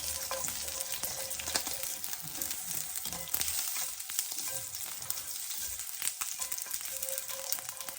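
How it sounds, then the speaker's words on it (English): Mustard seeds and chilies crackle and pop in hot oil for coconut green beans, a steady bright sizzle broken by sharp scattered pops and the scrape of stirring, close and alone. "So I'm getting mustard seeds. This might start popping and crackling like popcorn."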